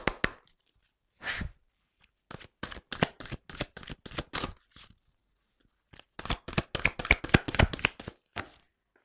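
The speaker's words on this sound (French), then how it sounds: "Ah, les cartes, elles sont très grandes. Elles font presque la taille de ma main. Alors, c'est pas simple des fois pour les secouer." Large tarot cards, nearly hand-sized, shuffled in close, quick bursts of papery flutters and taps that come in two main runs separated by a short pause.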